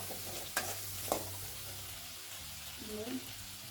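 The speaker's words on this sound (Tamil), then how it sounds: "கொஞ்சமாக கருவேப்பிலை சேர்த்துக்கோங்க. இந்த களி நல்லா வதங்கி வரட்டும்." Curry leaves sautéing in a pan for a fish curry, a faint steady sizzle with a couple of brief stirring knocks, quiet and close.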